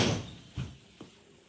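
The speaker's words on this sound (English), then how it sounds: "When the breeze blows through the house, y'all, the door slam." A door in a house, slammed by the breeze, lands with a sharp thud followed by two softer knocks within about a second, close by in a quiet room.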